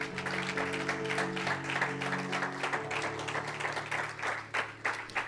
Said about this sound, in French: applaudis pour toi-même